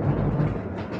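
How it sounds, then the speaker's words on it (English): A train rumbles along its track in the Half-Life mod Dissolution, a steady low mechanical drone with a faint rattling texture, close and continuous throughout. "That train you powered up should get you through quickly enough."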